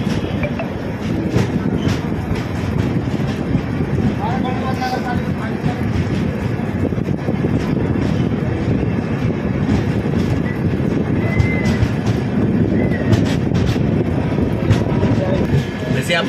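Garib Rath Express, a long-distance train, rolls along steadily at speed, its broad continuous rumble and rattle filling the whole stretch from close by inside the carriage, with faint background voices.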